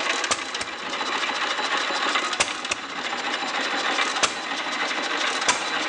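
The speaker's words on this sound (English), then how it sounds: "What a simple little engine." A 1929 Fairbanks Morse Z stationary engine runs at a slow idle, its hissing drone broken by sharp, evenly spaced exhaust pops about once every second or two, heard close with no talk.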